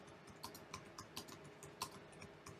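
Quiet keystrokes on a computer keyboard, a string of irregular close clicks and taps with small pauses between bursts.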